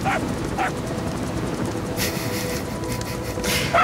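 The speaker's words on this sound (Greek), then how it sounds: "Το κουτάβι. Αχ, το μωρέ, κοίτα. Το οποίο κάνει σαν τρελό για το Snake." A puppy in the video game Metal Gear Solid V gives a few short, high yips and whimpers at intervals, spaced across a steady low game backdrop with soft hissy bursts in between.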